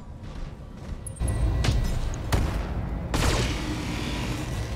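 Bursts of autocannon fire from mechs in the Battletech video game, with several sharp loud reports and a heavy barrage rolling over a steady background of combat noise.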